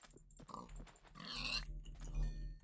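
Pigs in Minecraft: a few short grunting oinks, one after another, fairly quiet against faint game background sounds.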